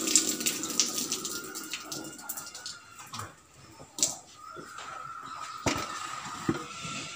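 Water splashes and runs while a dairy cow's udder is washed clean, an irregular series of close splashes, trickles and gushes at moderate loudness with no talking.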